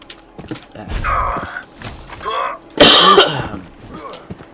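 Several rough, throaty coughs from a man who is playing a video game, with a loud harsh burst in the middle. The coughs are spread out over a few seconds and come with faint creaks and background noise.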